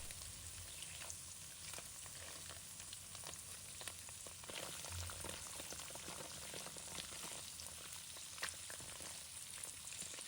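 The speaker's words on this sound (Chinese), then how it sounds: "慢慢煎制，让豆腐均匀受热。" Tofu pan-fries slowly in oil over low heat, giving a faint, steady sizzle with scattered soft pops throughout, and no talking.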